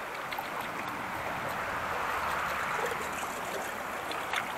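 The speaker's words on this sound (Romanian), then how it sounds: "Ah, ce apă faină!" A stream flows nearby in the Romanian countryside, a steady, soft rushing and burbling of water that stays even and moderately quiet throughout, with no voices.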